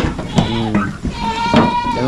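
A goat bleats close by, two wavering, nasal calls in quick succession on a farm.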